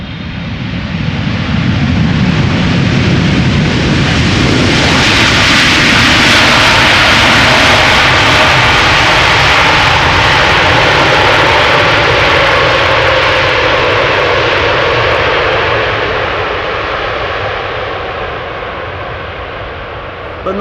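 A jet airliner lands at Amsterdam Schiphol Airport, its thrust reverser producing a loud, sustained broadband roar that swells after touchdown and then slowly fades as the aircraft decelerates, with no talking over it.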